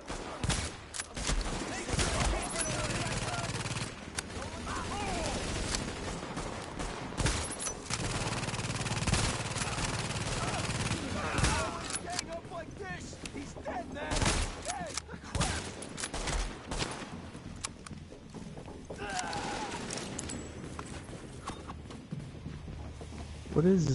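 Sustained enemy gunfire in The Division, with bursts of automatic fire layered through the whole stretch while voices talk over the shooting.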